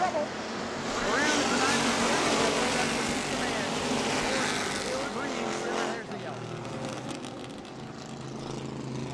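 Race cars roar around a short oval track at a family fun night, engines droning and swelling as they pass, with an announcer talking over the constant engine noise.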